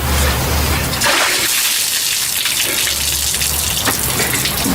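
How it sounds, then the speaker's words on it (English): Water gushes out of an upside-down bucket all at once in a loud splashing pour, then settles into a steady running spill before a final splash. "if I just hold the bucket upside down, water will flow out of the bucket"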